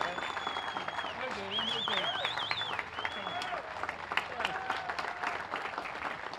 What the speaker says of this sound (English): let's give a great round of applause and a great welcome of celebration to Harry Uhlman, our great friend.